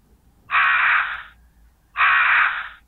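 Crows caw in the video game Resident Evil, two loud, harsh calls about a second apart, each lasting under a second, against near silence.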